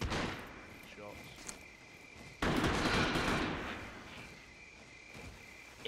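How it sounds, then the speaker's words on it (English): Gunshots in the survival shooter Scum: a sudden loud burst of fire erupts midway and rings out over a steady mechanical hum, with a few fainter shots elsewhere and speech present. "Shots."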